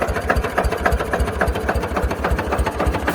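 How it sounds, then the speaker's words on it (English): A tractor engine idles close by with a steady, rhythmic chug of evenly spaced low pulses, heard alone. "this machine was just standing right here and running"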